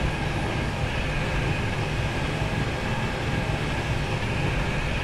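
A Roblox SCR train runs toward the airport station, giving a loud, steady rumble and rolling roar from inside the carriage that holds constant without voices.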